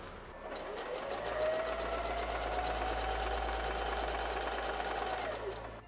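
A sewing machine runs continuously while stitching a dress, a close, steady mechanical whir with a low motor hum that holds evenly for several seconds.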